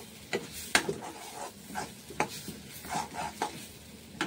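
Spices frying in a pan for Bengali gonia fish chorchori, a steady sizzle with repeated spatula stirs and scrapes at close range, no voices.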